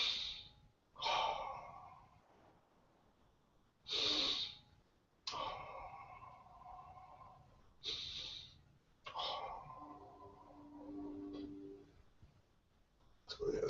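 Slow, deliberate breaths during a yoga recovery session, with airy inhales and exhales recurring every couple of seconds close to the mic and a soft voice speaking between some of them.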